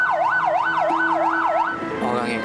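Ambulance siren wailing in a steady rising-and-falling pattern, loud and close, with a few repeated cycles before it fades into a blur of traffic and background noise.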